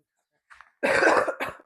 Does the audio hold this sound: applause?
no